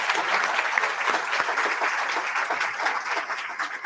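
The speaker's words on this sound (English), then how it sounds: "let's give them a big round of applause first" Audience at an annual meeting and forum applauding the panel speakers, a steady dense round of clapping from a large crowd, fairly loud and sustained throughout with no talk.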